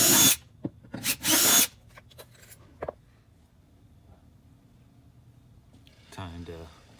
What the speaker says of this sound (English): Now I need to drill out all these holes.